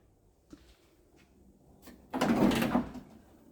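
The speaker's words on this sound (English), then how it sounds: "the sound of the rear door unlocking" The rear tailgate door of a 1968 Ford wagon hot rod unlocks: a faint click, then a louder mechanical whirring clunk lasting under a second, close and alone without talk.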